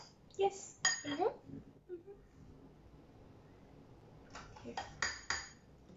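A spoon clinks and scrapes against a bowl in two short bursts as granola bar ingredients are stirred, with quiet pauses between the bursts.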